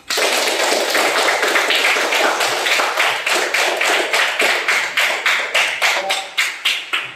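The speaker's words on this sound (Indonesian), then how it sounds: "Jadi kita buat tepuk tangan untuk semua" Classroom students clapping together for all the discussion groups, a dense burst of many hands that thins toward the end into slower, more distinct rhythmic claps, loud and close with no talk.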